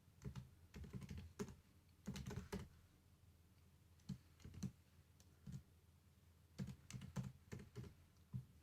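Code is typed on a computer keyboard in short bursts of close, crisp key clicks separated by brief pauses, with no talking.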